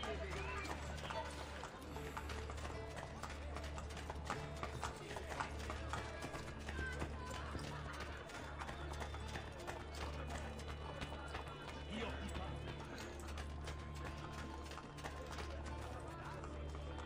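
Horse hooves clip-clop at a steady pace in the Assassin's Creed Brotherhood video game, faint and continuous beneath game ambience and a low hum, with people talking over it.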